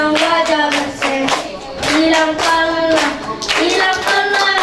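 Congregation clapping in steady rhythm with singing at a church birthday gathering, the claps loud and close, running throughout beneath the voices.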